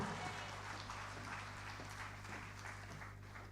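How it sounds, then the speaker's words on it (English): A seated audience at a Nigerian empowerment-items presentation applauds the Minister of Women Affairs, a steady wash of clapping heard from some distance over a low hum, fading slightly toward the end. "Please, a round of applause for her one more time."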